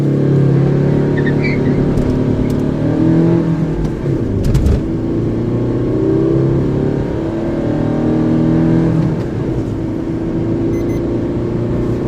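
Maruti S-Cross accelerating hard from standstill toward 100, a loud continuous engine drone with rising pitch sweeps, a brief dip around a gear change, then climbing again, heard from inside the car.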